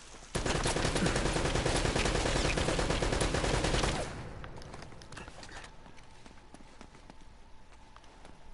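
Gunfire in the video game Uncharted: Drake's Fortune rattles in rapid, loud bursts for a few seconds, then gives way to quieter scattered shots and movement sounds.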